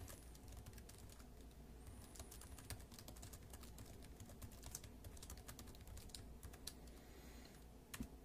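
Steady typing on a computer keyboard, a continuous run of quick, light key clicks at close range with no talking.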